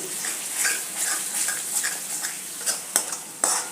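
Soybean masala loosened with a little water is stirred in a pan, giving a steady wet scraping and swishing, with a few sharper clinks of the spoon against the pan near the end.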